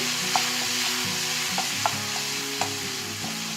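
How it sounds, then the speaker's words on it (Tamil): Fennel seeds, curry leaves and garlic fry steadily in hot oil for an egg masala, a continuous close sizzle broken by a few soft stirring taps, with no voices. "சோம்பு வந்து கொஞ்சம் கலர் மாறினதுக்கு அப்புறமா கருவேப்பிலை, அப்புறமா பூண்டு இது எல்லாமே ஆட் பண்ணிட்டு"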